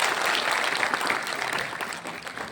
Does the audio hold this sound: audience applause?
yes